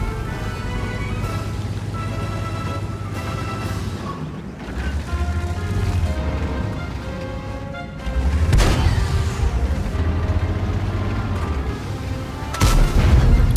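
A tank fires its main gun in World of Tanks, with two loud, sharp booms cutting through the steady rumble of the engine and the battle noise.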